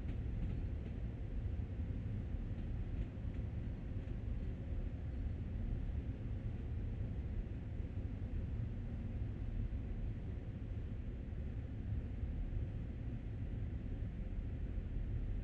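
An express train on the Long Island Rail Road in Train Sim World 2020 rumbles past as a steady, heavy low roar with rail noise, continuous and fairly close for the whole stretch, with no talking.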